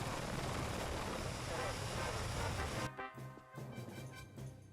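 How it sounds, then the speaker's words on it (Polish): Helicopter engine in the Garry's Mod video game, a loud steady rotor and turbine roar that cuts off abruptly partway through, leaving fainter pulsing engine tones with a voice talking. "Śmigłowiec ma takie same dźwięki silnika."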